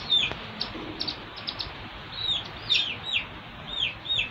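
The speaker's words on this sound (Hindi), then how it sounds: "तो गाइस, ये हमारे चूजे हैं।" Young chicks in a backyard bird colony give repeated thin, high chirps in irregular bursts over a soft, steady background hiss, fairly close and unaccompanied by talk.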